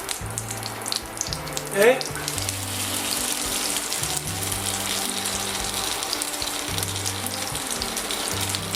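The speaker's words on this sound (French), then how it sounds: "on va laisser le beurre noisette tranquillement" Browned butter sizzles gently in a pan over low heat for potato and sauerkraut galettes with lardons, a soft continuous frying hiss with a brief brighter crackle near the start and a voice speaking one word.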